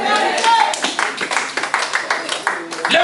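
A church congregation claps to acclaim God, a dense, continuous patter of many hands close by, with a voice speaking over the applause.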